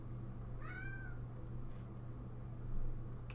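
A cat gives a single short, rising meow close by over a low steady hum, followed by quiet room noise.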